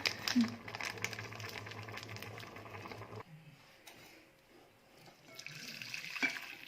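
Water splashes into a bowl, a busy, rushing patter that drops to quieter trickles and drips partway through, with a voice now and then.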